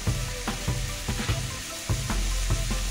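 Shrimp frying in a pan hiss steadily while being flipped over, with a few soft utensil scrapes and clacks punctuating the sizzle.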